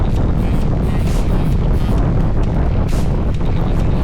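Strong, steady headwind roaring and buffeting across the microphone during a gravel bike race in Lithuania, broadband and loud throughout with no pauses.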